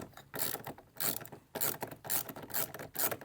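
A ratcheting tool tightens the horn ground screw, a T20, on a 1990–1992 Camaro steering wheel, with several bursts of fast clicking separated by short pauses, close and clear.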